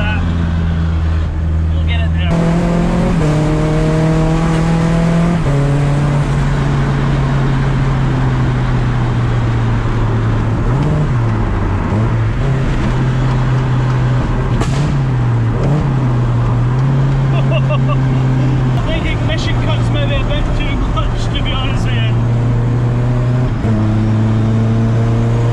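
A Mazda RX7 fitted with a K20 engine and dual-clutch gearbox revs hard at full throttle to around 8500 rpm, its steady loud drone climbing and dropping with gear shifts, while people talk over it.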